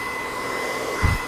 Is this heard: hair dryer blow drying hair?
yes